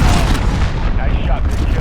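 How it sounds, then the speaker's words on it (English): A cruise missile strike in the video game Call of Duty Modern Warfare lands as a loud, close, rumbling explosion that fills the whole moment, with a voice talking over the blast. "Cruise missile away."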